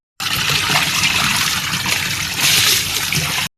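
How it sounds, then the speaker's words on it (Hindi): Chilled water from a submersible pump running and splashing during an outdoor bath, a loud, close, continuous trickle and splatter with no talking. "मतलब ये समरसेबल का पानी है और एकदम चिल्ड आ रहा है।"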